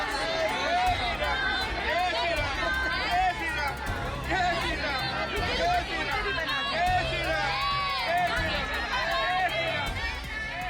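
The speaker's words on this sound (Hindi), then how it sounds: "भक्तों की भीड़ लगी है, जय श्री राम के नारे गूंज रहे हैं" A dense crowd of devotees at Dhirendra Krishna Shastri's divine darbar in Delhi chants Jai Shri Ram, a loud, continuous swell of many overlapping voices with shouted, sung tones rising and falling throughout.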